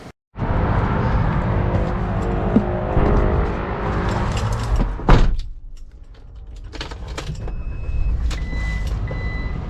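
A Ram ProMaster conversion van starts off on a drive, its engine a steady, close rumble throughout with a sharp clunk midway and faint high beeps near the end.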